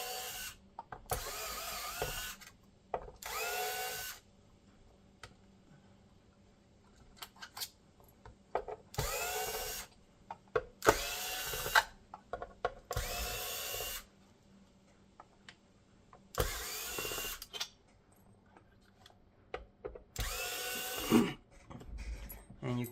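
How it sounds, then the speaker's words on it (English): Screws being backed out of an Xbox power supply unit with a power tool, several short loud whirring bursts separated by quiet pauses and faint handling noises. "keep removing the screws."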